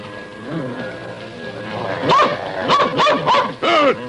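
A dog barks several times in quick succession, loud and close, while a voice talks over the barking.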